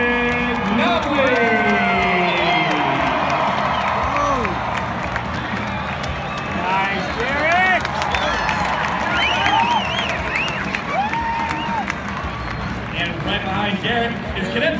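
Large stadium crowd at the 2015 Armed Forces Bowl, Cal versus Air Force, cheering and whooping for a cadet parachute jumper, a loud sustained roar with scattered shouts and whistles, an announcer's voice over it.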